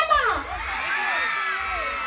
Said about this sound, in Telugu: మన ఆడవాళ్ళందరూ గట్టిగా అరయ్యమ్మా